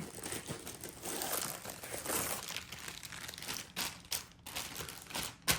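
Close, continuous crinkling and rustling of thin plastic, busy and uneven with sharper crackles toward the end.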